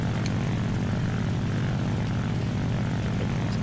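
Propeller aircraft engine of a stalling fighter plane in War Thunder, a steady loud droning roar with pulsing low throb, continuous throughout with no talk.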